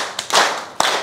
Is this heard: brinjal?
no